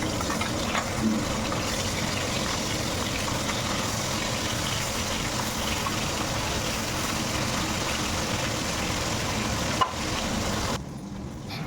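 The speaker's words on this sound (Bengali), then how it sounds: "এখন মাছগুলো ভেজে নিচ্ছি" Fish pieces fry in a pan with a continuous, even hiss of hot oil that holds steady for the whole stretch and drops away abruptly just before the end.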